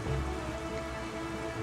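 Steady rain hisses evenly over the open sea in The Legend of Zelda: The Wind Waker, a constant wash of falling drops with no voices.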